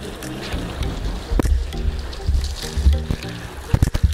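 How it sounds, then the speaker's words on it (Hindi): A car is washed outdoors with water from a long hose pipe, with uneven splashing and sloshing, spattering bursts and occasional knocks close by. "काफ़ी लंबा पाइप यूज़ करना पड़ता है क्योंकि गाड़ी बाहर धोते हैं हम लोग"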